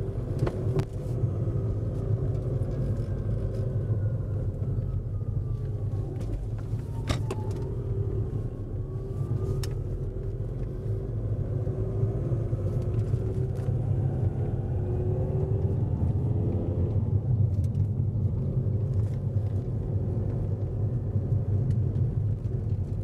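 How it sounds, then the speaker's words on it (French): Steady low rumble of a 2006 Audi A3 Sportback driving at 80 km/h after a timing belt replacement, heard from inside the cabin, engine and tire noise constant with occasional faint rattles. "Un petit essai sur route qui fait très plaisir."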